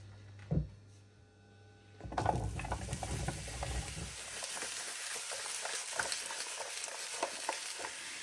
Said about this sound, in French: je vais faire sauter mes courgettes dans l'huile d'olive